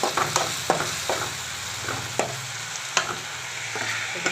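Onions and tomatoes sauté in a pan for tomato rice, a steady sizzle broken by repeated sharp scrapes and clacks of a spoon stirring, close and fairly loud, with no voices.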